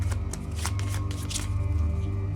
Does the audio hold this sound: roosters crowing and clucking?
no